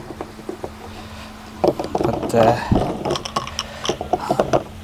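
Plastic union being screwed back onto a waste ball valve, a close series of short ratcheting clicks and scrapes as the threads turn, uneven in rhythm, with no talking.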